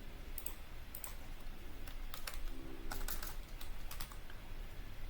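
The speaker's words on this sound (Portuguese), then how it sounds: "vou digitar calha e dou OK" Fingers tap on a computer keyboard in quick bursts of light clicks, close up against steady background hiss, with no voices.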